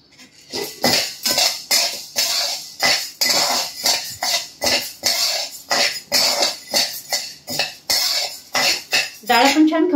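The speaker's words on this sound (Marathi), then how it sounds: "डाळ आपण छान खमंग भाजून घेणार आहोत." Chana dal dry-roasting in a pan, stirred with a metal utensil in a steady series of sharp scraping, rattling strokes, close and fairly loud, with no voice over it.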